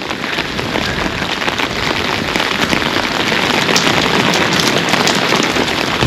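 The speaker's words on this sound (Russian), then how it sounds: "Дождь не планирует останавливаться." Steady, loud rain pours down on a seaside promenade in Lazarevskoye, Sochi, a dense continuous hiss of drops hitting the surface nearby, with no talk.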